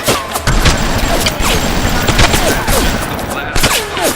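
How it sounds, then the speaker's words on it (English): Gunfire in the BioShock video game, a dense run of sharp shots over loud in-game noise, close and continuous with no clear gaps. "Notice how I am firing one shot at a time semi-auto with this."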